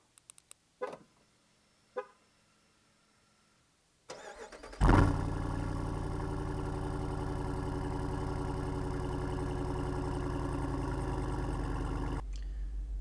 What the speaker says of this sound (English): The 392 comes with a performance exhaust that sounds incredible.